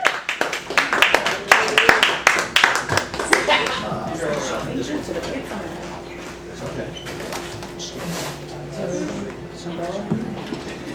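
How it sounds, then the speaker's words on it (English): Open-mic audience clapping for a comedian during a poetry month show: a burst of dense, fairly loud claps in the first few seconds that thins out into scattered taps, room murmur and a faint tone as the crowd settles. "give a big round of applause for Jason King"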